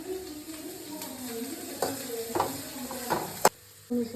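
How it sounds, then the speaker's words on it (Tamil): Onions sizzling in a pan as a utensil stirs them, with soft scraping strokes over steady frying crackle at close range. "இந்த ஆனியன் வந்து நல்ல கிளாஸ் மாதிரி ஆகணும். அது வரைக்கும் நம்ம கிண்டி விட்டுட்டே இருக்கணும்."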